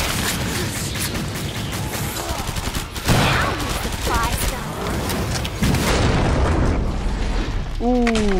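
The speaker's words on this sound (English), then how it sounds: "Ooh, that explosion" Loud, dense bursts of booming explosions and gunfire in the video game Killing Floor 2, continuous and chaotic, with brief voices breaking in.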